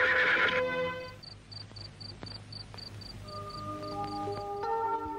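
A horse whinnies loudly and close at the start, one long shrill neigh, followed by a steady pulsing chirp of crickets, with a soft music score rising toward the end.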